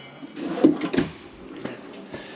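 Drawer on the outdoor kitchen of a 2013 Keystone Outback 312BH travel trailer slides and knocks, giving two close, muffled thumps in quick succession followed by quieter rattles.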